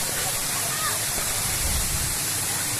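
Waterfall at Sithathipuram dam in Kuruvithurai, Madurai, pouring as a loud, continuous broadband roar of rushing water, steady throughout without distinct splashes.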